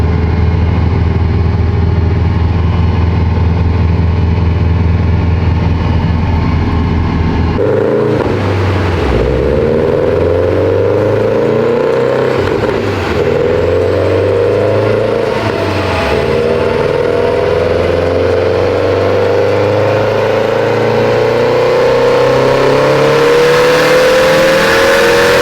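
A Subaru STI engine on a dyno idles with a low, steady rumble, then revs up and holds a loud, rising harmonic wail that climbs steadily over many seconds under load.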